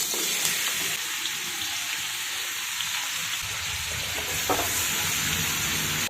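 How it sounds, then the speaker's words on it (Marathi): Soaked sweet potato slices sauté in hot ghee in a pan, giving a steady, bright sizzle with occasional scraping stirs and small bursts of crackle, loud and continuous throughout. "चकल्या आपण आता छान अशा तुपात परतून घेऊयात"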